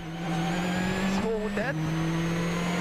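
An OMV Peugeot rally car on a foggy Wales Rally GB 2006 stage, its engine roaring steadily close by and rising through several gear changes, with a commentator speaking over it.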